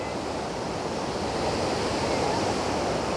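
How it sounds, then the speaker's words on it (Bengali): Powerful Alakananda river current rushing toward its confluence with the Bhagirathi at Devaprayag in Uttarakhand, a steady, loud broadband roar of fast water that holds constant, with no voices. "দেখো বন্ধুরা, অলকানন্দা স্রোত দেখো"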